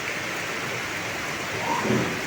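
Steady rain falls outdoors near a house with trees in cool weather, a dense, even hiss that swells slightly toward the end.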